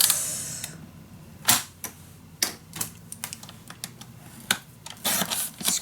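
Paper for a handmade strawberry-themed double scrapbook folio being scored and cut, heard as a series of sharp, close clicks and snips spaced irregularly over quiet room tone.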